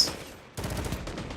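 Lord of Wolves shotgun firing in Destiny 2 PvP, a loud rapid string of blasts bursting in after a brief quiet stretch, several shots in quick succession.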